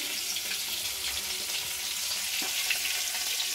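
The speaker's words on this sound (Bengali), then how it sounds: "এখানে হচ্ছে বড় মাছ ভাজা" Big fish fry in a pan in a home kitchen, giving a steady, dense sizzle with a crackling hiss that holds even and loud throughout.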